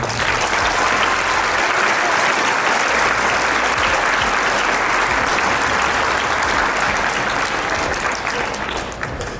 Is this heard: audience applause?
yes